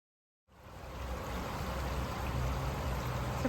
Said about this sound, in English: It's a pretty little waterfall coming into town.